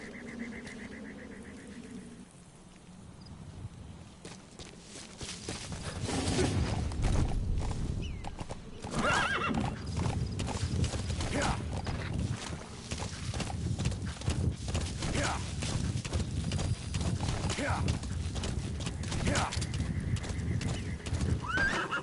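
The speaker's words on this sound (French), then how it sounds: "tu peux appeler ton cheval" Horse neighs and hoofbeat clip-clop from the video game Metal Gear Solid, starting quietly and then running steadily and loudly, with several whinnies over continuous galloping hooves.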